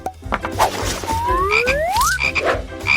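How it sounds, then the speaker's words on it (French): A frog croaks loudly and close, a rising chirping call sweeping upward and a few short repeated croaks, set against clattering and bumping noises. "Et maintenant, mettons la grenouille à l'intérieur."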